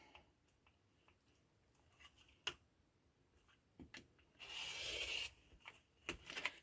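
Quilt fabric is trimmed on a cutting board, giving a quiet tick of the cutter followed by a brief rasping slice in the middle, surrounded by faint taps and rustles close by.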